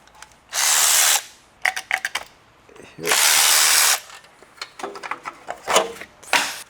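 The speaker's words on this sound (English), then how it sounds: "Need to unbolt this bracket here." A power tool unbolts a bracket on a crash-damaged BMW E60 M5 with a V10 engine: two loud, sustained whirring bursts, followed by ratcheting clicks and metallic clatter from close by.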